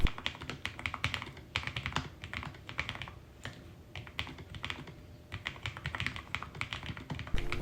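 Fast, steady typing on an ultra-slim carbon fibre Lofree Edge mechanical keyboard, crisp clicky keystrokes close up in a continuous rapid patter with no voices.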